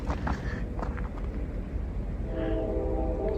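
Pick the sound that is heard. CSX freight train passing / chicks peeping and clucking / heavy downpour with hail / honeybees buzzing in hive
CSX freight train passing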